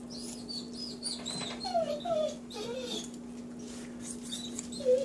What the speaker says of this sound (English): Smells so good, even the dog's going crazy.